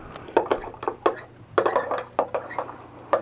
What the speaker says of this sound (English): now I'm going to stir it up